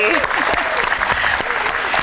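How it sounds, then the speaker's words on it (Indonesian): Lively audience applause at a community Kartini Day gathering, dense continuous clapping throughout with voices calling out over it. "Kita berikan tepuk tangan yang meriah"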